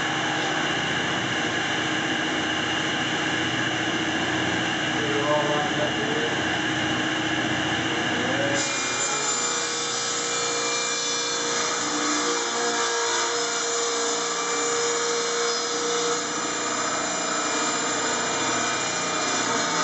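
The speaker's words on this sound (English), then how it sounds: "Delta saw." A Delta saw cuts a 3-inch strip from 4x8 plywood, giving a loud, steady motor whine with a grinding cutting tone that changes partway through and holds to the end, with no talking.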